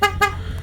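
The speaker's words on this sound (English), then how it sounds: "Here, I'm gonna honk." Two short, quick horn toots from a 2020 Ford Fusion Hybrid SE sound close by on a snowy day, with a faint third beep trailing after.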